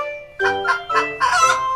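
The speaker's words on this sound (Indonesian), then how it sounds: "Biasanya, mereka mulai bersuara setelah berhasil bertelur." A hen's egg-laying cackle rings out nearby in four loud, harmonic bursts, the last one longest and most insistent, with no talk over it.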